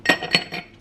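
Three ice cubes drop one after another into a glass, each a sharp bright clink with a short ring, close and clear.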